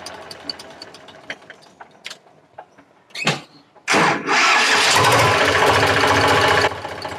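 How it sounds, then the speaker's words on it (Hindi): Eicher 485 tractor diesel engine cranking and catching on one try, then running loud and steady at idle after a few clicks and knocks, close by. "ये ट्रैक्टर अभी एक ही झटके में स्टार्ट होता है"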